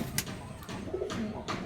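Madras pigeons cooing close by in a loft, several soft low coos spread through the clip with light wing and rustle sounds between them.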